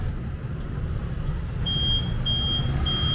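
Self-service tire inflator at a Japanese gas station in Chiba beeping as it reaches pressure: a thin, steady high-pitched tone repeating in short runs over a low rumbling engine-like background.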